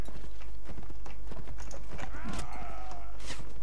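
Horse hooves clip-clopping in Mount and Blade Warband, a rapid close galloping patter over steady low hum, with a brief whooshing sound and scattered game effects.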